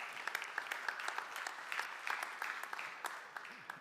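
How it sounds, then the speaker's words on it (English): A conference audience, some present in the hall, gives sustained, moderately distant applause for a speaker, with scattered individual claps standing out of the even patter. "Very warm applause, virtually and in presence for Eric."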